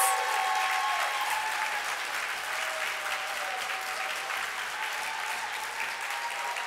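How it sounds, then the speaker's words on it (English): A room full of people bursts into sustained applause at an award event, steady and dense clapping at a constant level that slowly tapers over nearly seven seconds. "I get to start talking about Mark Kinzly, I just want to hear another round of applause for all of the California folks in the room who work so hard on these bills."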